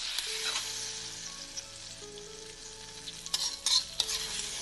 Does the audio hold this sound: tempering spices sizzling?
yes